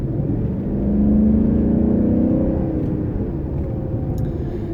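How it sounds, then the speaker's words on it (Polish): A 1994 BMW 740iA E38 engine accelerates as a smooth, quiet low purr with a gentle rising whir. The note swells briefly, then settles into a steady hum heard from inside the car, with no talking. "Słyszymy, jak sobie cicho i przyjemnie silnik mruczy."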